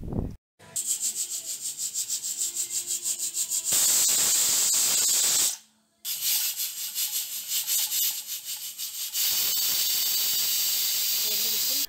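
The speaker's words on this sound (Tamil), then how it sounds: "இப்போ வந்து குக்கரை மூடி விசில் போடுறேன்னா ஒரு 2 விசில்ஸ் கரெக்டாக வச்சு எடுத்துக்கலாம்" A pressure cooker cooking vegetable kurma hisses with a loud, steady jet of steam in two long whistle bursts, separated by softer rhythmic puffing and a brief silence.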